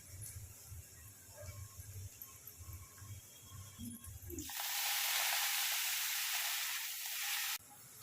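Chickpea greens and garlic hit hot oil in a pan with a sudden loud, broad sizzle that holds steady for about three seconds, after quieter kitchen noise and faint background voices, then cuts down abruptly.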